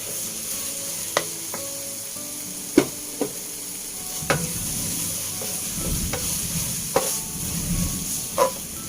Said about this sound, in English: we further stir fry this until it really absorbed and the flour is also cooked